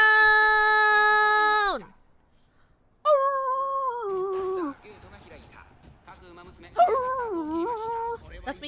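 A person's voice imitates a dog's bark, cheering on Fuji Kiseki during an Uma Musume horse race, with a long drawn-out howling yelp and then several shorter wavering barks, loud and close.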